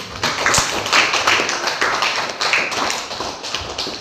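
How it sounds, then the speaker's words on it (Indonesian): Students in a classroom clap together, a quick run of scattered hand claps over several seconds at moderate loudness, with no talking over them. "Iya, tepuk tangan dulu."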